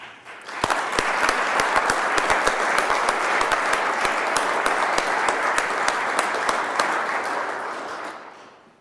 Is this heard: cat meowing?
no